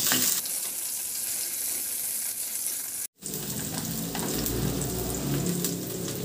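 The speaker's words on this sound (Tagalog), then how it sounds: "At igisa ko na rin yung bawang. Ilagay ko na rin yung sibuyas." Garlic and onion sauté in hot oil in a pan, giving a loud, steady, broad sizzle that cuts out for a split second partway through, then resumes with a slightly deeper, bubbling tone.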